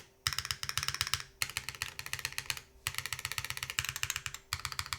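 Fast, crisp clacking on a Seal full-size mechanical keyboard comes in four quick bursts of rapid keystrokes, close and clear, with short pauses between them and no talking.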